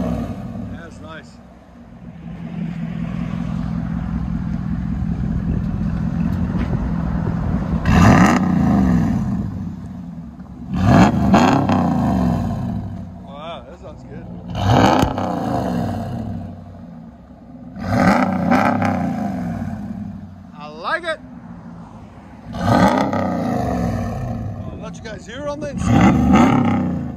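A 2018 RAM 1500 pickup with its 5.7L V8 and Borla ATAK exhaust revs in several loud, rising bursts spaced a few seconds apart over a steady rumbling idle, with people talking in between.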